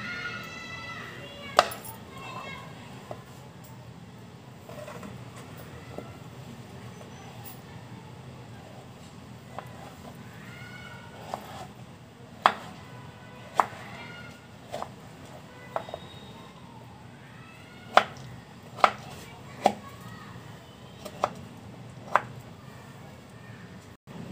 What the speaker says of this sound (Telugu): ఇప్పుడు చిన్న చిన్న పీసెస్గా కట్ చేసుకుందామండి.